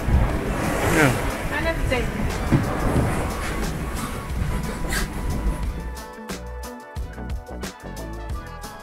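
A sailboat beats into waves, with rushing surf and wind buffeting the microphone for the first six seconds. Sharp knocks and clattering take over after that, and a voice talks over part of it.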